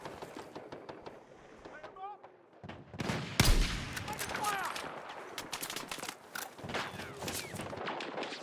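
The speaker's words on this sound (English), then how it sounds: "Machine gun!" Machine gun fire in a third-person shooter video game, rapid bursts of shots mixed with other game effects and a voice talking over parts of it.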